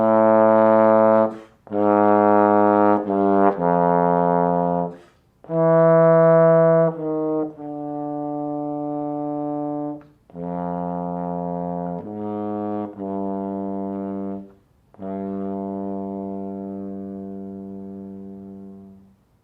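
Bass trombone on a Greenhoe GB5-3Y plays an excerpt from Brahms's First Symphony: sustained, rich low notes in separate phrases that swell and fade, heard solo and fairly close with no talking.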